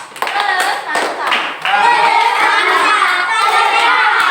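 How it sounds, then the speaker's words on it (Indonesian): A classroom of children applauds a group of pupils, a loud burst of clapping with excited shouts and voices mixed in, starting patchy and then swelling into steady close applause. "Berikan aplaus untuk kelompok 3."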